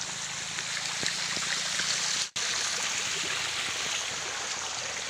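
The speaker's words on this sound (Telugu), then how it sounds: "చూస్తున్నారు కదా ఇక్కడ వాటర్ ఫ్లో ఏ విధంగా ఉందో" Rainwater runs down from the hills in a stream near a hill temple, making a steady, rushing flow that stays constant apart from one very brief cutout.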